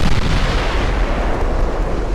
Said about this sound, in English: I landed two 14-inch shells on him